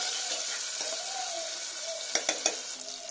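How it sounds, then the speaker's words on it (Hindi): Frozen beans are stirred into khichdi frying in a pan, making a loud, continuous sizzle. A quick run of three sharp utensil knocks lands near the end. "इसे भी इसके अंदर ऐड करके अच्छे से मिक्स कर लेना है।"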